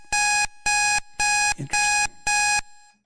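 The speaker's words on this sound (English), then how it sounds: "That was my iPad, an alarm going off at the end of that YouTube timer." An iPad alarm goes off at the end of a timer, sounding five loud electronic beeps in an even pulse. A brief voice cuts in between two of them.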